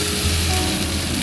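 Chicken sizzles steadily in a pan with turmeric, chilli powder, coriander, salt and homemade sauce, producing a close, continuous frying crackle and no speech.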